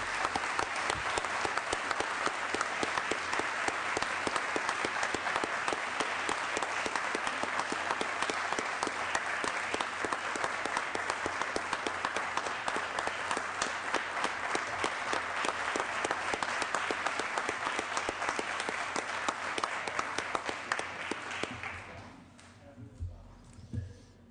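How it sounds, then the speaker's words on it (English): Long, sustained round of applause fills a Senate chamber, steady dense clapping from many people holding for about twenty seconds before tapering off into quiet. "give a loud and long round of applause for Taylor Booker"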